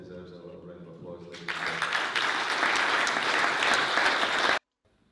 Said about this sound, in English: Deserves a little round of applause.